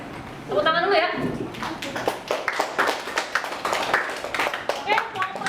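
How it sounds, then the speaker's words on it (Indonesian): A classroom group claps after a presentation, ragged separate hand claps building into a lively patter that carries on, with a voice talking over the start. "Tepuk tangan dulu ya"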